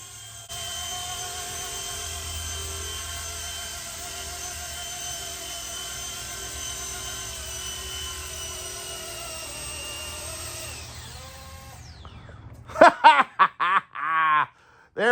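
An RC ERA MD500E C189 model helicopter hovers with a steady high-pitched rotor and motor whine, then lands and spins down. Sharp, brief sounds follow once it is quiet.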